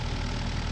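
A 100-some-horsepower Komatsu excavator engine in Farming Simulator, demolishing old houses, gives a brief, steady low rumble that sits loud and alone.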